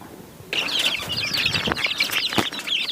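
Month-old Siruvidai country chicken chicks at a poultry farm burst into busy, overlapping cheeping and clucking with scattered wing flaps, close and continuous after a quiet start.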